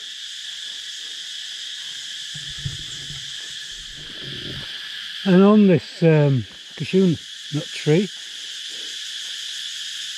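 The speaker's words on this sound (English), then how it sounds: "all the noise you hear is crickets" Constant high, shrill chirping of crickets near a cashew tree at Black Rock fills the background throughout, while a person speaks briefly partway through.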